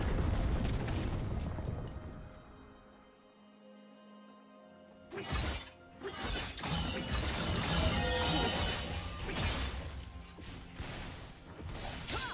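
A League of Legends turret collapses with a loud crashing burst of shattering debris and rumble after a quieter lull, the impact followed by several seconds of dense rubble and clattering noise.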